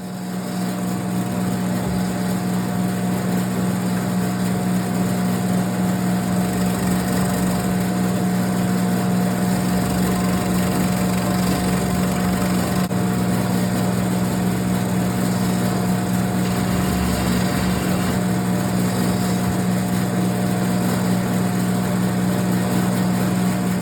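A handheld power tool rounds over the edges of a solid-body electric guitar body, giving a loud, steady motor drone that holds unbroken for the whole stretch with no talking.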